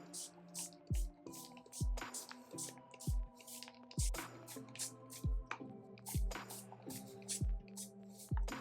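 Water mixed with leave-in conditioner is misted from a spray bottle onto hair. It comes as about eight soft, regular spritzes, each roughly a second apart, close and fairly quiet. Faint clicks and low hums sit underneath.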